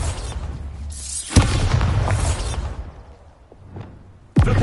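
Bombarda blast spells go off in Hogwarts Legacy as a pair of sharp, heavy booms. Each bursts suddenly and rumbles away into a fading, debris-like tail, with the second blast striking near the end.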